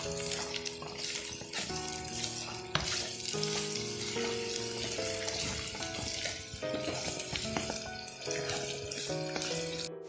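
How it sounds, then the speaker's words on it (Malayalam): Ginger frying in oil with green chilli, being stirred in a pan for a Kerala lime pickle: a steady, close sizzle with scraping and clinking throughout, and no voices. "കുറച്ച് ഇഞ്ചിയും കൂടി ചേർത്ത് കൊടുക്കാം. നന്നായി ഇളക്കി കൊടുക്കാം."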